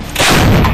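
An M777 howitzer fires with a loud, booming blast that fills the moment and rolls on in a dense, sustained roar.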